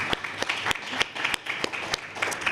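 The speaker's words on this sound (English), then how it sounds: "another round of applause for all of our visiting debaters and our debaters here at home" Audience applause, steady clapping from a crowd with sharp individual claps standing out, moderately loud and continuous throughout.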